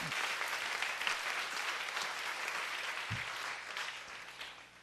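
A church congregation applauds together in a dense, sustained wash of clapping that fills the room for several seconds before tapering slightly at the end.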